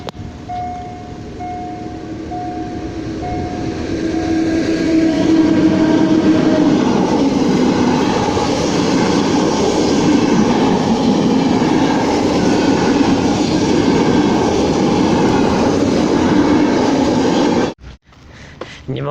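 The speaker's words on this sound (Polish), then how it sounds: "ale będzie jechać pociąg" A train passes close by, a loud sustained rumble with rhythmic wheel clatter and a faint tonal whine, swelling over several seconds and cutting off abruptly near the end.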